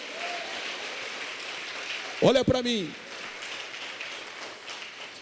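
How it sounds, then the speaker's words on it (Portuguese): A church congregation at a communion service claps steadily, a dense hissing wash of applause running throughout. A voice briefly speaks over it midway. "Então vamos aplaudir o propósito."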